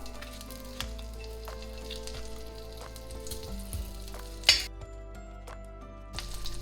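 Butter sizzles steadily on a hot dosa griddle while street-style fried eggs are made, with a low continuous fry, a few faint clinks and a sharper burst of crackle partway through.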